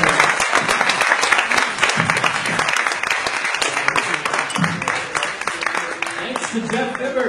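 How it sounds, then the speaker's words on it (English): A crowd claps and cheers in a dense, continuous burst of applause, with voices mixed in as it gradually thins toward the end. "Give it up for Rupert, everybody."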